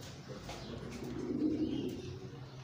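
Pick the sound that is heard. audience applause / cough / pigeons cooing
pigeons cooing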